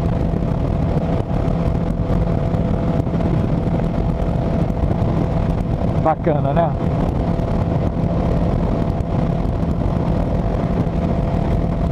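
Yamaha XJ6F motorcycle cruising on a highway at night, a steady loud engine hum with strong wind roar, and someone speaking briefly over it.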